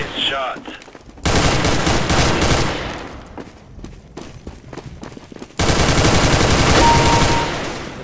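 Rapid bursts of gunfire in the video game CS:GO, loud and close, dense automatic volleys separated by a quieter stretch of scattered shots, with a voice occasionally heard.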